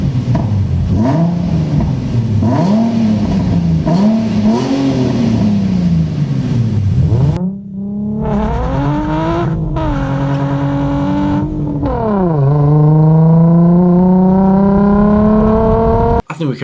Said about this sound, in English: I've found the NVIDIA N1 exhaust gives this car a really great sporty sound without being